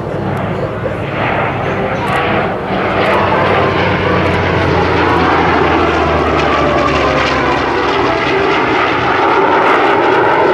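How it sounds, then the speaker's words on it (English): The US Navy Legacy Flight roars past at an airshow, a loud, steady aircraft engine drone filling the whole stretch while an announcer speaks over it. "From the left, ladies and gentlemen, the U.S. Navy Legacy Flight."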